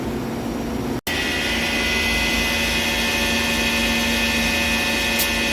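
A 2021 Citizen Miyano BNX-51MSY CNC multi-tasking turning center with Mitsubishi M70V control runs dry with a loud, steady mechanical whine and drone, interrupted by one brief dropout near the start.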